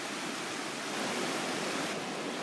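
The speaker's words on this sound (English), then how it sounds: "So we're now down at the river bank." A river flows steadily past its bank, giving off a constant broadband rush of moving water with no other sounds or voices, nearby and even in level throughout.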